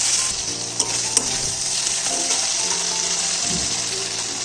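Tomato and whole chillies frying for a bottle gourd and prawn ghonto, a loud, bright, steady sizzle with scraping stirs and two sharp clicks of a spatula on the pan.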